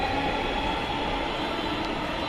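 A steady, loud rumble of a metro train at the Mirpur 10 metro station platform in Dhaka, with a constant mechanical hum and no voices.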